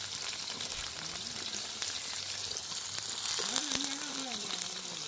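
Curry leaves and spices sauté in a pan with a continuous, dense sizzle and occasional stirring, close up, while a voice murmurs faintly in the background.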